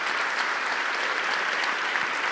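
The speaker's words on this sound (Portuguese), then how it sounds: "Vamos aplaudir essas vidas que estão vindo." A church congregation at a Portuguese-language service applauds: a dense, even wash of many hands clapping at once, sustained for a couple of seconds with no voices over it.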